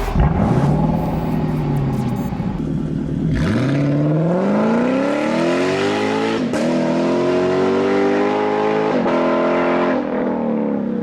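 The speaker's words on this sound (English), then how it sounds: "the Yamaha-designed 5-liter naturally aspirated V8 that powers this model" A Lexus LC500's Yamaha-designed, naturally aspirated 5-liter V8 revs hard and loud, its pitch climbing through repeated throttle blips and sustained pulls toward a 7,300 RPM redline, with no talk over it.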